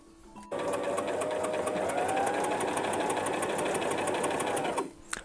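A sewing machine runs steadily along a men's shirt seam, a close whirring motor with rapid even needle ticks that starts abruptly and stops after about four seconds.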